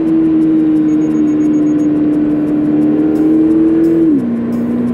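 A Toyota GR86 sports car takes a sharp curve on a winding mountain road, its engine holding a steady loud drone heard from inside the cabin, then dropping in pitch near the end as the driver eases off.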